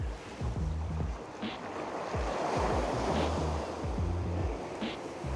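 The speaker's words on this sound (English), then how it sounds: "there's a nice bit of movement because the tide's coming in" Sea water of the incoming tide washes steadily against a marina slipway at Watchet in Somerset, with wind buffeting the microphone and surf surges swelling and easing throughout.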